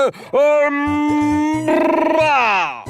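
A voice imitates a horse's neigh, a long wavering whinny rising and trembling before trailing off, loud and close.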